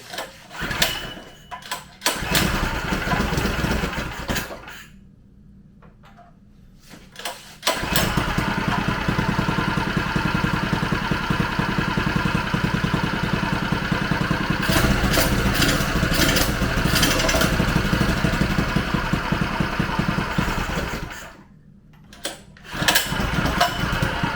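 A Predator 212 mini bike engine fitted with a stage 1 kit, starting up and running with a loud, rapid single-cylinder putter, dropping out briefly, restarting and holding a steady buzzing idle before cutting off and firing again.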